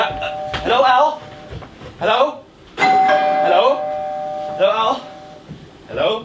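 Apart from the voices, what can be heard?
doorbell ringing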